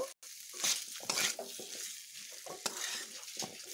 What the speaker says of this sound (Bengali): নুন দেওয়ার পরে একটু ভালোভাবে মিশিয়ে নেব।